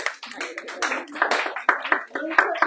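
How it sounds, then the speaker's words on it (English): Gathering in prayer at a church event gives a hand clap of praise, bursts of clapping mixed with cheering and voices, uneven and close, with talk running underneath. "Let's give her a hand clap of praise"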